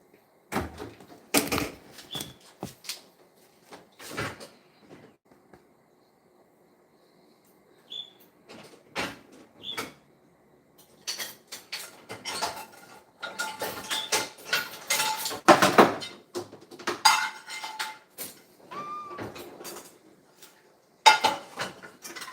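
Intermittent metallic clanks and clatter of cookware being moved, with short pauses between bursts of rattling.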